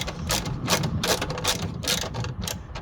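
A socket ratchet clicks in quick bursts while tightening a headlight bolt on a dually truck, the close, crisp pawl ratcheting repeating steadily with no talk.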